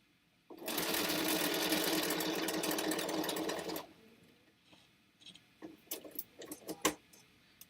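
A sewing machine chain piecing quilt blocks runs in one continuous loud whirring burst of about three seconds, then stops, followed by scattered small clicks and handling noises.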